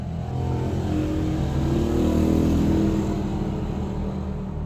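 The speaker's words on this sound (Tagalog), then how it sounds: "ang daming dumadaan na motorsiklo." Motorcycles passing on a road outside, a continuous engine roar swelling and fading as they go by at moderate distance, with no talk over it.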